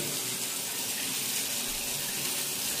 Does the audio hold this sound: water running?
yes